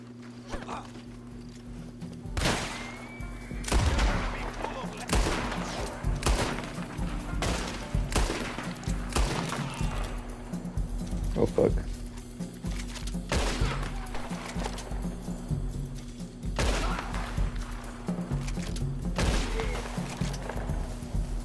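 Gunfire in the Western video game Red Dead Online, sharp shots scattered irregularly across the scene alongside horse hooves and footsteps, over a steady game background hum.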